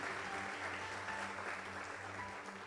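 A church congregation claps together in worship, steady dense applause filling the room without pause, with faint voices underneath.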